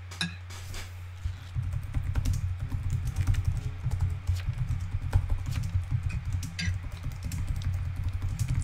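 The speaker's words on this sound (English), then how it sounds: "Typing out my will, dude." Rapid, dense clicking of keys on a computer keyboard during a Town of Salem game session, steady and close throughout over a low background hum, with no talk.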